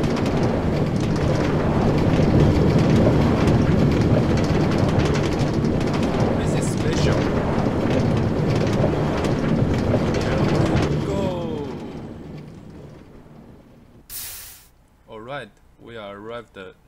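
A train runs on rails in the Minecraft video game on a special railway system, a steady loud rumble for about eleven seconds that fades away, followed by brief talking.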